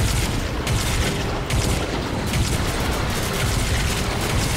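Sustained automatic gunfire from the first-person shooter Crysis 3, a dense, loud stream of rapid shots and booming impacts with no pauses.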